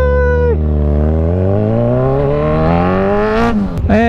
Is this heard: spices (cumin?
no